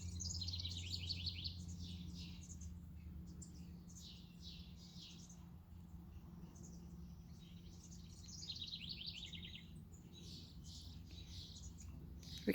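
Small birds chirp in a zone 3 garden in June, bursts of rapid high twittering recurring over a low steady hum, fairly faint and unaccompanied by speech.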